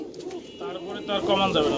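Fantail pigeons at a market stall give soft, close cooing that mixes with nearby human voices through the whole short stretch.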